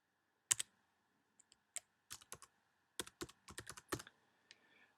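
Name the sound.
typing login username and password on computer keyboard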